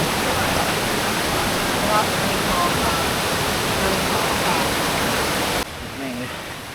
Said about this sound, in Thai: เดิน ริมน้ำตกไปนะครับ น้ำตกเล็ก น้ำตกน้อย